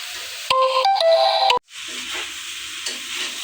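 Mixed vegetables fry in a pan with rice, red lentils, onion, chilli and ginger for khichuri, giving a loud steady sizzle and hiss with stirring scrapes, plus a short electronic tone near the start.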